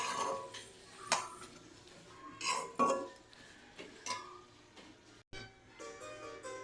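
Spinach curry being stirred in a cooking pan, with intermittent utensil scrapes and clinks against the pan over a low kitchen background, close and moderately quiet.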